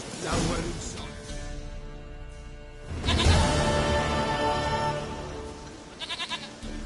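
A goat in The Witcher video game bleats several times in wavering, nasal cries, fairly close, over a layered game soundscape with some whooshing and a crash-like burst midway.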